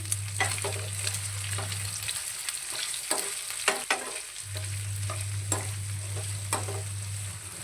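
Sliced onions stirred and fried in a pan, with steady sizzling throughout and scattered scraping clicks of a spoon against the pan; no voices.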